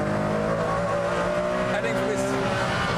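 A Ferrari Enzo accelerates hard out of a corner with a loud, sustained engine roar climbing in pitch, heard up close throughout.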